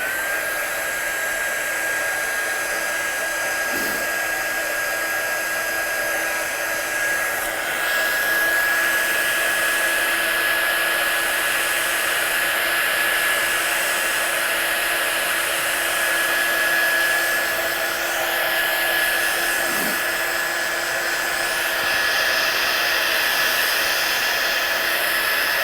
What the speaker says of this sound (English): I'll just dry that off.